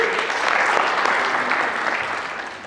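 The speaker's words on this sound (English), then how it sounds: "You can give yourself an applause." A lecture audience breaks into a short burst of applause, a thick wash of clapping that stays full and steady before starting to taper off after a couple of seconds.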